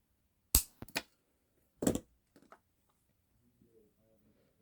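A few sharp, close clicks of wire being cut with cutters while making a wire wrap pendant, spaced apart with quiet gaps between, then faint rustling handling.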